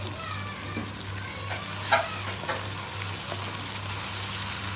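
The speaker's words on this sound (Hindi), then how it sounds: "दो चॉप्ड हुए हुए टमाटर और फिर इसे मैं फिर से स्टर कर लूंगी" Chopped tomatoes are stirred in a frying pan while cooking chicken majboos, giving a steady close sizzle with scattered soft scraping and squelching stir noises.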